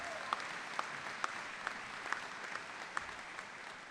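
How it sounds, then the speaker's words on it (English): Audience applause for a school choir at a high school commencement ceremony, a soft, steady wash of clapping heard from a distance with a few sharper claps standing out. "Let's give them a round of applause."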